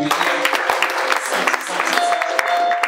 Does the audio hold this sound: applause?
yes